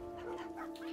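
Several dogs in Minecraft give short, overlapping yips and whimpers close by, on top of a steady tonal hum from the game.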